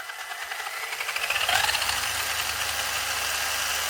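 A Funtek STX RC car's electric motor spins under light throttle, giving a thin, close whine that swells and then holds steady.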